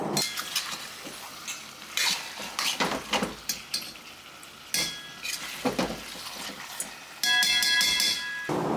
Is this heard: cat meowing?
no